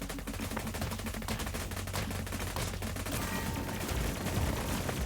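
Gatling guns fire in a moon-conquest strategy video game, a dense continuous rattle of rapid shots layered with explosions and steady game noise throughout.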